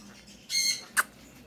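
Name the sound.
Quaker parrot squawking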